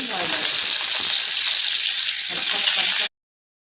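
Tempering spices hitting hot oil with chickpeas, pumpkin, potato and soya chunks, a bright, steady hiss and sizzle close up that continues evenly, then cuts off abruptly.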